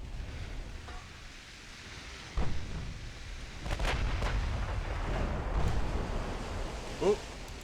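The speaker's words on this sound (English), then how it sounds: "Hopefully that brings all the guns to bear." Battleship main guns fire in the naval combat game Ultimate Admiral Dreadnoughts, a few low booming salvos with rumbling echoes over a steady sea-like background, while a voice talks in the background.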